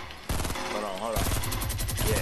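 Rapid gunfire in the video game Fortnite bursts in after a brief quiet moment and continues as dense, loud, overlapping shots, with a player's voice heard briefly amid the shooting.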